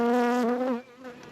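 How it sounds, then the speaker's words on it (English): Honeybees buzz around a beekeeper working the hives, one steady close drone hovering loud near the ear, wavering slightly as the bee shifts, then pulling back and fading a little. "It's that one bee. They just won't leave me alone."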